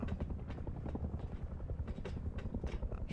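Helicopter in the video game Rust, a steady chopping rotor drone with rapid rhythmic pulses, close and continuous throughout without talk.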